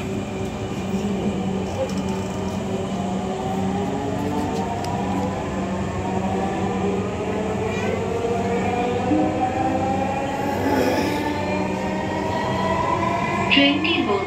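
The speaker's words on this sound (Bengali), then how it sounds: "This train is bound for Motijhil." A Dhaka metro rail train running toward Motijhil, heard from inside as a steady, loud rolling hum with rising and falling electric motor whine throughout.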